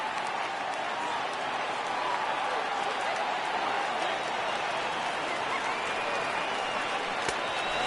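A stadium crowd of over 39,000 fans on their feet cheers in an MLB 18 baseball game at Yankee Stadium, a steady, dense roar of voices sustained throughout without a break.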